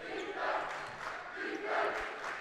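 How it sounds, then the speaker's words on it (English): A high school boys basketball crowd in a Beverly gym chants in rhythmic, swelling waves of massed voices, a two-part defense chant repeated twice, filling the hall. "Beverly crowd noticing the urgency that they need to be playing with, giving a little defense chant here"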